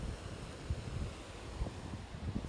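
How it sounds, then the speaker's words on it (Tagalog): Steady, low monsoon wind at the seaside rushes and buffets the microphone in a continuous rumble, with no voices present. "Ayan, may hangin, siyempre habagat."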